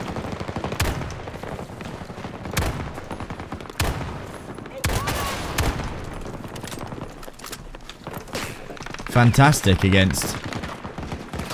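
Desert Eagle .50 caliber gunshots in a video game ring out as sharp, loud cracks spaced irregularly across the scene, with other gunfire and someone talking between and over the shots.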